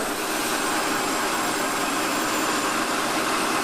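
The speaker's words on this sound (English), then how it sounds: "Next operation, tapping size for 5/16 UNF. Fairly shallow hole just to take the threaded section of the flare nut." A capstan turret lathe tapping a 5/16 UNF thread in a shallow hole for a flare nut runs as a dense, steady mechanical roar and hiss, loud and unbroken, with no voices over it.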